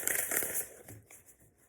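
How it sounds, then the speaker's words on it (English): Large oversized oracle cards being shuffled by hand, a brief papery riffle and rustle that is loud at first and fades over under two seconds, with no voice. "These are really too big to shuffle like this, but still I try."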